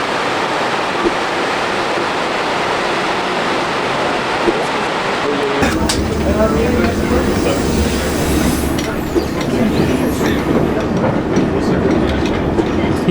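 A mountain train in Skagway, Alaska rides along tracks with a steady rumble and rhythmic clatter; the sound shifts and deepens partway through, then continues loud and close to the end.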